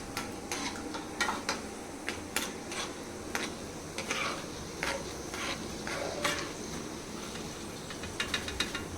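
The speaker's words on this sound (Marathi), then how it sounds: "आता तुपामध्ये हलकेसे भाजून घेतलं ना ड्रायफ्रूट" Dry fruits roasting in ghee in a pan, stirred with repeated scraping clicks of a utensil against metal over a steady soft sizzle, close and without talk.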